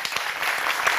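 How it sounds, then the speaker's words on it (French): Studio audience applause on a French TV talk show, a dense wash of clapping that holds steady and fairly loud through the short moment. "Et vous applaudissez"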